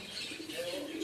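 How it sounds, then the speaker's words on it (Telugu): Birds chirp and coo outdoors in a natural setting, several overlapping calls at moderate distance against a soft background hush. "ఆ పక్షులు కిలకిల రావాలు ఇలా మంచిగా ఒక"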